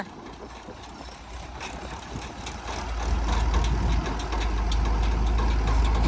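Tractor diesel engine in a farm field being revved, its knocking rumble climbing to a louder, fuller roar about halfway through and holding there, close and continuous with no voices.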